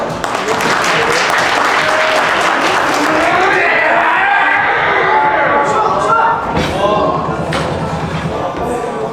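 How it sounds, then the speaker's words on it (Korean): A crowd at an arm wrestling championship match applauds loudly and continuously while an announcer's voice carries over the clapping. "양 선수를 위해서 다시 한번 큰 박수 부탁드립니다"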